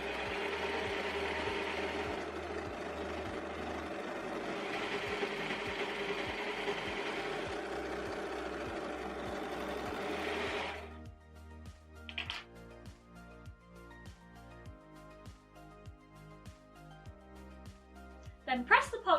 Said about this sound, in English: I'm using my overlocker today